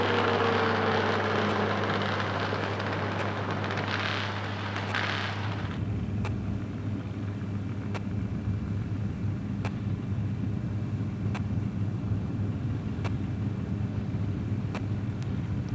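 An open-wheel drag race car powered by a 170 cubic inch Ford Falcon engine comes around the corner, a loud rough roar that fades after a few seconds into a steady low rumble of idling engines heard from a distance.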